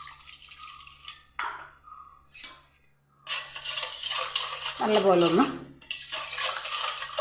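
A spoon stirs a yogurt, vinegar, salt and water marinade in a bowl, giving soft scraping and a few clinks against the sides, with a voice talking over parts of it.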